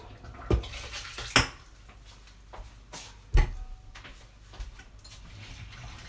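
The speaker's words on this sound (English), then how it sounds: "And then I put the rest of the stock in." Rest of the stock goes into a thickened chicken and vegetable soup in a pot: a soft watery wash broken by several sharp clanks of utensils against the pot, no voices.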